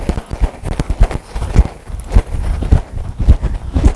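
Horse hooves clip-clop steadily during barrel riding training, loud and close, a rapid uneven drumming of footfalls as the horse comes around the turn.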